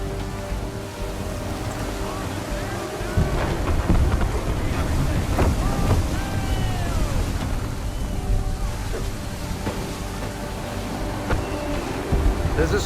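Strong wind buffets a sailing ship at sea in Assassin's Creed 3, a steady roaring gust with creaking timber and splashing water, loud and continuous throughout.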